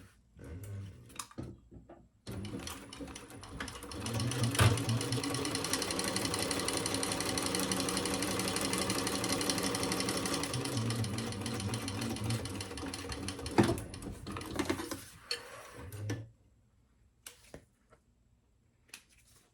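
A sewing machine stitches a bag, running in one sustained, even burst of rapid mechanical whirring for about twelve seconds, with faint clicks and handling before and after.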